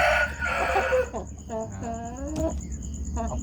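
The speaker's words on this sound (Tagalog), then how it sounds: "yung nag-iisang hen, nag-iisang pulet sa kanilang tatlong magkakapatid." A white hen with a little gold in her plumage, a young pullet, gives a few short clucking, squawking calls up close, with rustling and a low background hum around them.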